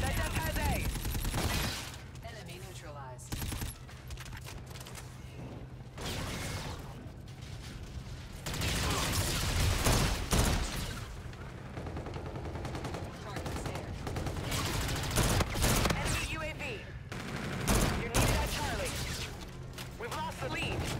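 Gunfire in Call of Duty: Infinite Warfare online Domination match, dense bursts of rapid shots and crackling weapon fire running nearly continuously with a player talking over the action.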